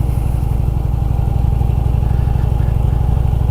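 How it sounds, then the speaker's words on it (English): A 2016 Harley-Davidson Street Glide Special motorcycle engine idles steadily up close, a deep, evenly pulsing low rumble with no talk over it. "My bike is a 2016 Street Glide Special in denim black."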